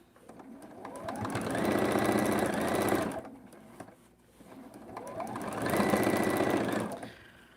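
Sewing machine stitching quilt blocks for mini stockings and ornaments, two fast rhythmic bursts of needle clatter separated by a short pause, close and moderately loud.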